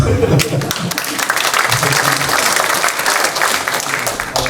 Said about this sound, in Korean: 박수를 왜 치다가 마세요.